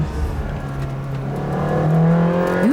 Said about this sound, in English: Currently, right behind me is a Ferrari, sort of camouflaged